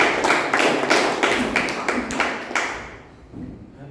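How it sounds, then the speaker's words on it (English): Applause from an audience at a Toastmasters club meeting, with a dense patter of many hands clapping steadily before tapering off and thinning out near the end. "A big round of applause."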